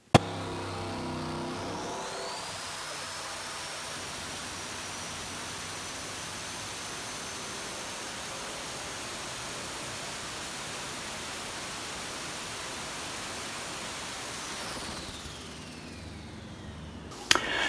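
A turbocharged 454 big block Chevy engine roars steadily on a dyno, a loud sustained broadband blast with a rising turbo whine, lasting about fifteen seconds before winding down.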